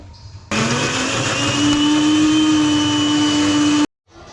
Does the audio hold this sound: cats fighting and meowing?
no